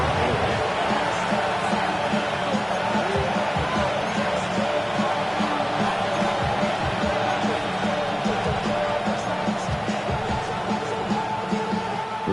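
Stadium crowd in an EA Sports Madden football game, a dense continuous roar of cheering and murmuring that stays loud and steady throughout, with faint scattered voices inside the din.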